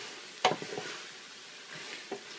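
Stirring ingredients in a pot over low heat, with one sharp scrape of a spoon against the pot followed by a few softer clinks and light stirring sounds, fairly close and otherwise quiet.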